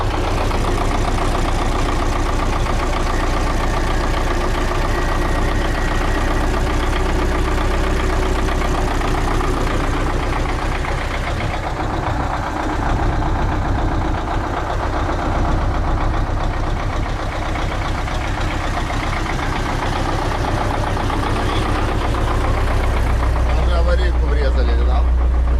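A Belarus MTZ-80 tractor's diesel engine idles just after starting, with a steady, loud, even rumble and a low throb that runs unbroken from start to end.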